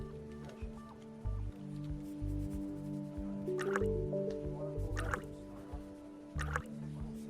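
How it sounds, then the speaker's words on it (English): Drops of iodine reagent fall into test tubes in a food macromolecules lab, a few soft, separate drips spaced seconds apart over a low steady hum. "Add drops of iodine reagent to each tube on the right-hand set of test tube racks."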